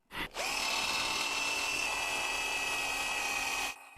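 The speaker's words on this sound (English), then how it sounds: "My drill has low battery. Once I made the hole" A cordless drill with a low battery whines steadily at high speed for several seconds while drilling a hole, starting with a brief burst, then running continuously before cutting off.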